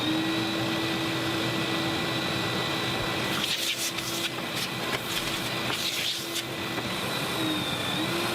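A Festool dust extractor runs steadily with a constant whine and broadband airflow hiss, loud and continuous, with a few brief bursts of extra rushing noise partway through.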